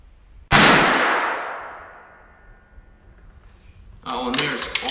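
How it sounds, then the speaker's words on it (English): A single loud, sharp gunshot from a Savage Arms Axis .223 rifle cracks up close and rings out with a long decaying echo, followed later by faint rustling and handling noise. "Let's load up another one and take a shot."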